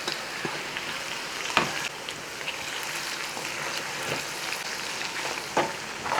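Food for ginger curry fries in a pan with a continuous crackling sizzle, broken by occasional sharper pops and scraping stirs.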